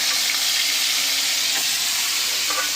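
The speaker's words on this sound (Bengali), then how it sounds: "আমার মা কিন্তু রান্না করছে দেখো ও কি রান্না করছে এটা বর্ষা কুমড়" Barsha kumro, a vegetable, frying in a pan on a home stove, with a steady broadband sizzle lasting throughout and faint clinks of stirring; no one speaks.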